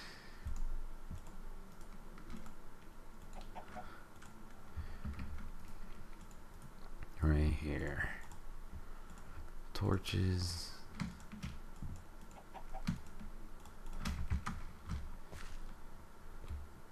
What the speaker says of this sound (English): Hopefully, you guys can't hear my mouse clicking.